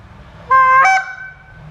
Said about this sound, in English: I'm just going to put the same air pressure into the Zinc Power Clucker and the Flambeau Stormfront Arctic Fury.